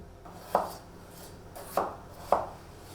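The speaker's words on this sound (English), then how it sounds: "So from there you can then chop it using the bridge again into slices" A kitchen knife chopping food into slices on a board, three distinct firm chops spaced about a second apart, close and clear over a quiet background, with no talking.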